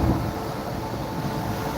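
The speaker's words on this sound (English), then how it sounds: "There's a big semi truck coming up on me." A big semi truck rolls past on Detroit's I-94, a steady broadband roar with rumbling low end and airy rushing, loud and close throughout, with no talking.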